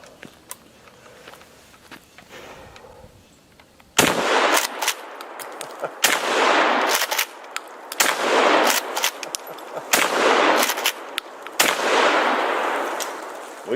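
A UTS-15 shotgun fires slugs outdoors in a rapid string of loud, sharp blasts, each followed by a ringing echo, after a few seconds of quiet handling.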